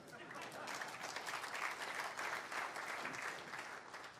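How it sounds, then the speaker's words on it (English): An audience at the 2018 New Brunswick State of the Province Address breaks into steady, dense applause that holds for several seconds, with a faint voice murmuring underneath. "if you want to clap, go ahead"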